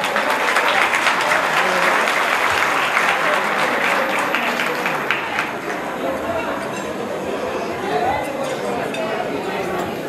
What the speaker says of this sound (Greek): Ένα συγχαρητήρια και ένα δυνατό χειροκρότημα.